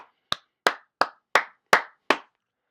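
One person clapping hands alone, seven sharp, close, evenly spaced claps in a slow rhythm, each crisp and separated by silence.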